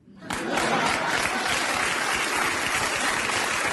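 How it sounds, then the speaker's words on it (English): A crowd claps in loud, dense applause that starts abruptly and holds steady, filling the space without any voices above it. "The crowd clapping always just gets me mad."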